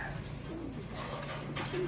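Soft pigeon cooing, low and repeated, against a steady background hum with faint chirps higher up.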